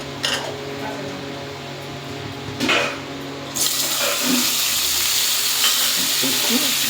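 Tomatoes and green chillies frying in hot oil in a pan, a steady close sizzle that swells louder partway through, with light stirring scrapes and no speech.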